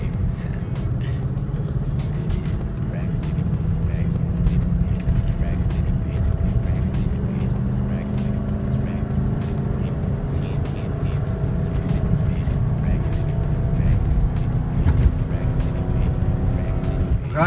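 BMW X6 with faults accelerating hard on a highway, a continuous loud engine and road roar with tyre and wind noise, heard from inside the cabin while someone talks over it.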